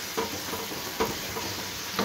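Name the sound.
sautéing spice masala with onion and garlic in a pan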